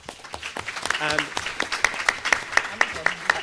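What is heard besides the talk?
audience applause for the panel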